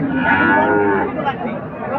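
A young Gir calf moos loudly and close at the Ambari cattle market, one drawn-out call that fades, with faint background chatter.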